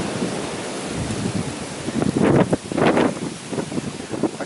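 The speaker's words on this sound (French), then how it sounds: "Ah, quel vent!" Strong wind roars and gusts against the microphone, swelling into loud rushing bursts before easing slightly.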